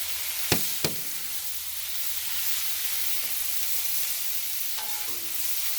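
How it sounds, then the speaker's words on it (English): Two pounds of cut bacon frying on a Blackstone griddle, a steady close hiss of sizzling fat with a couple of sharp knocks early on and faint utensil scrapes later. "the first thing we're going to do is get us some bacon going here"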